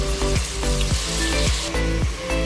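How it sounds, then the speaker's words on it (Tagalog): Diced onion and grated carrot sauté in a hot pan, giving a steady close sizzle broken by several rhythmic scraping strokes of a spatula, with no talking. "Igisa-gisa muna natin ng kunti hanggang medyo mano yung carrots."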